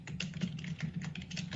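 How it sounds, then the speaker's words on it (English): Steady, fast typing on a computer keyboard, close and fairly quiet, a continuous run of small key clicks with an even rhythm. "Stop typing."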